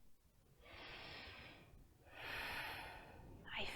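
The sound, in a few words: slow breathing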